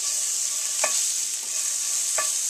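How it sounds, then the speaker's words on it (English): Butter sizzling in a pan for a roux, a steady bright hiss with two soft clinks of a utensil against the pan, close and alone. "I'm going to make a roux, put some butter in there"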